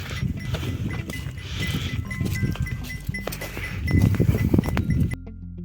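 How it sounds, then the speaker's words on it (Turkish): Livestock on a village sheep farm, with bleating, bells clinking and hooves shuffling close by in a steady, busy outdoor din, and no talk. "Koyunlar güzel hayvanlar."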